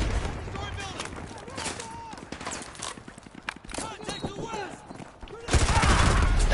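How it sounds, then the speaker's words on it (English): Chaotic gunfire and blasts in the Call of Duty No Russian mission, clustered shots crackling close and loud, ending in a heavy roaring explosion, with game voices shouting in the mix. "That's a lot of grenades!"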